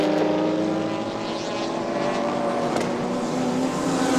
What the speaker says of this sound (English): The rotary engines are powerful. A lot of blowbacks.